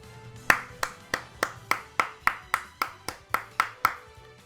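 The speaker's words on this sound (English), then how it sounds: "That was sarcastic clapping" One person claps slowly and evenly, about a dozen sharp, close hand claps spaced roughly a third of a second apart in a deliberate, unhurried rhythm over a quiet background.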